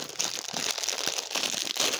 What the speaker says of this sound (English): these are in a slightly translucent plastic bag